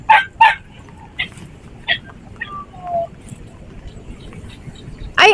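A brown dog at a rainy outdoor market gives short, sharp barks in scattered bursts, close by, with brief quiet gaps between them and a louder bark at the end.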